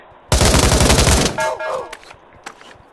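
Rapid loud gunfire from the VR shooter Pavlov, a dense burst of shots lasting about a second, followed by a few scattered, fainter single shots and mechanical clicks.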